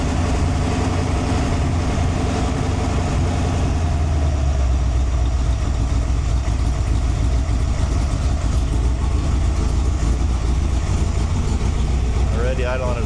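A 408w engine idles right after startup at about 1,000 rpm, running slightly rich: a steady, close, low rumbling drone that continues throughout, with some talk over it.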